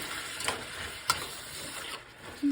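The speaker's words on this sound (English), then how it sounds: "and now I'm going to stir" Sugar gets stirred into a pot of cooking beans, making a soft ongoing sizzle with a few scraping spoon strokes and light knocks against the pot.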